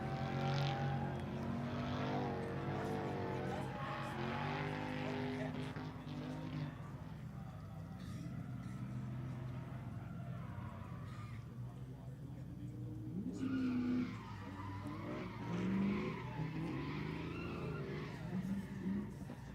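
Drift cars in a tandem drift battle at a Drift Wars Double Top 32 event give off a continuous loud roar of engines and tire skids that swells and fades over the stretch, with no voice.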